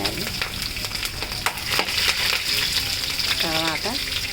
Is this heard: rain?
no